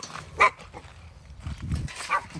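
Dogs barking in a backyard garden just after a heavy rainstorm: a sharp bark stands out near the start, with a couple of further yips and scuffling movement following, fairly close.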